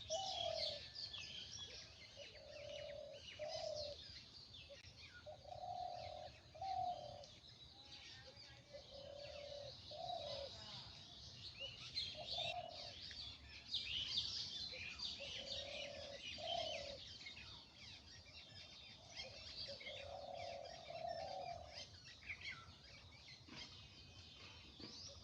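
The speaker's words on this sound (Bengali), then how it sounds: "গুগু ডাকতেছে।" A dove gives soft, repeated low coos in short phrases every second or two, moderately distant, over a steady background of high insect buzz and occasional bird chirps.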